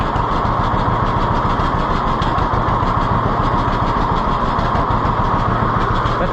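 A small engine running after a carburetor adjustment, a loud, steady, rough drone with a fast pulsing beat that holds level for the whole stretch, with nobody speaking.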